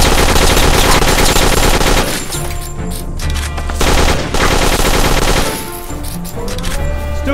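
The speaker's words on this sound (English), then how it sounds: "Oh, it's shooting him." Loud, dense bursts of gunfire in the farm-defense video game Dead Acres, rattling almost continuously with brief lulls and game music or effects layered underneath.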